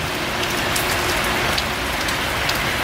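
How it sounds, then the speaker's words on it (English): Heavy rain pours down steadily in a backyard in the Philippines, a dense, continuous hiss of drops striking surfaces nearby, with no voices. "See how hard it's raining in my backyard?"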